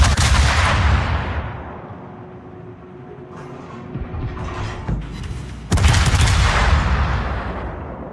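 Naval gunfire from warships in World of Warships, two heavy booming salvos that roll out and decay, separated by a quieter stretch with faint mechanical rumble, loud and close.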